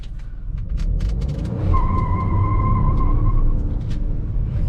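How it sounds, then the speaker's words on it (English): Mahindra XUV 300 Turbosport launching hard with traction control off, engine roaring loudly up close as the tires spin, with a sustained squeal of wheel spin. "so we are launching our car"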